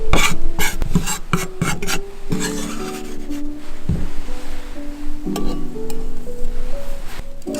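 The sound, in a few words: zesting a lime's green peel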